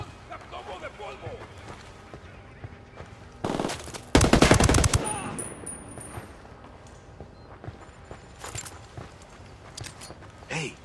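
Gunfire in a video game shootout in Ghost Recon Wildlands, a burst of loud rapid shots around the middle, with scattered fainter shots later and voices talking over the action.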